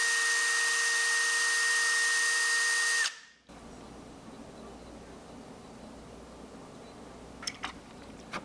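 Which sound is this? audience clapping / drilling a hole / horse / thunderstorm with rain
drilling a hole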